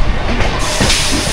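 Kirandul passenger train running out of Visakhapatnam, a brief stretch of steady, loud rolling noise and hiss from inside or beside the moving train.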